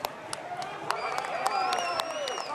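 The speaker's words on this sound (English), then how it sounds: "The fans cheering these riders off the start then." Fans cheering and clapping as riders set off at the start of an elite men's cyclo-cross World Cup race in Namur, a steady crowd roar under a commentator's voice.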